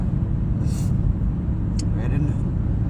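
Road traffic heard while stuck in a jam, a constant low rumble of engines and vehicles close by with a few faint higher hisses, steady throughout.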